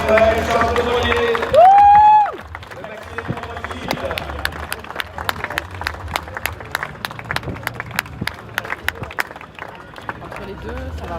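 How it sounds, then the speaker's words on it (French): Spectators clap at the Le Havre finish of the 2023 Transat Jacques Vabre as sailors Erwan Israël and Charles Caudrelier arrive aboard their maxi trimaran. A loud tonal burst comes first, then steady scattered applause runs throughout under crowd murmur. "On peut dire que déjà les applaudir très très fort, bravo à eux."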